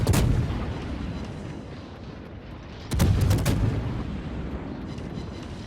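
A Smolensk cruiser in World of Warships fires shell salvos, heard as a sharp booming shot at the start and a heavier rumbling volley partway through, each trailing off into a low roll.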